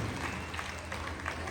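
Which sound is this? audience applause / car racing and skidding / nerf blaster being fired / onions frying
audience applause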